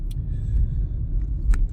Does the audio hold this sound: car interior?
yes